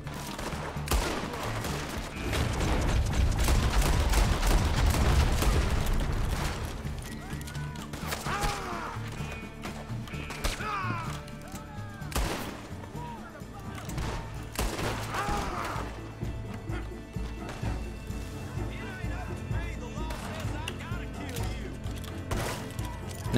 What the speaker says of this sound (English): then I stopped to look at a crime being committed, and then they started shooting at me